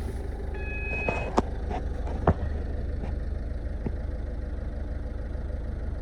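A 2010 Ford Fiesta Zetec diesel with about 82,000 miles, due a service and showing an oil warning light, idles steadily with a low, even engine thrum and a few sharp clicks and knocks along the way.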